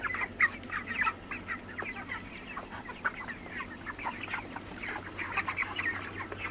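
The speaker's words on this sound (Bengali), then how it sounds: "দেখেন আমার মুরগিরা খাওয়া দাওয়া করে একটু রেস্ট নিচ্ছে।" Farm chickens resting after feeding give a steady chorus of soft clucks and short calls, several birds overlapping at moderate distance against a low background hum, with no talking.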